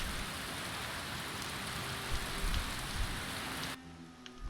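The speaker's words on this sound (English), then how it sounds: "But it's raining out, so." Steady rain falling outdoors in the Skyrim video game around Falkreath, a dense continuous hiss that abruptly drops away near the end.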